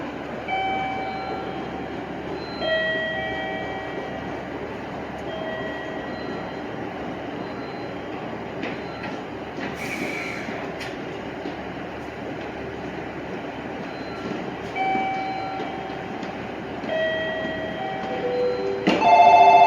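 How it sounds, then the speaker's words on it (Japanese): JR Chuo Line train at Tajimi station, with a steady rail rumble under repeated electronic platform chimes and tones, plus a horn-like blast near the end. No one speaks. "4番線から列車が発車します。"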